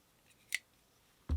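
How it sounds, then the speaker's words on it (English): Blade deployment of a CRKT Squid folding knife: a faint metallic click, then after a short pause a sharper, louder snap as the blade locks open, in an otherwise quiet room. "A lot quicker deployment of the blade"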